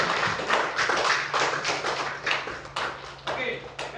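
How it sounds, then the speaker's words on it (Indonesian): Schoolchildren clapping their hands together in an Indonesian classroom, a run of uneven claps with a rough, loose rhythm, near and fairly loud, with voices chattering underneath. "Semua tepuk tangan dulu."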